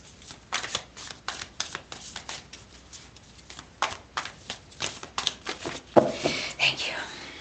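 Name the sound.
tarot cards being shuffled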